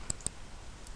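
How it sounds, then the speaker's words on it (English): Two quick, sharp computer mouse clicks close together near the start, then quiet room tone with no talking. "We simply click on the file name,"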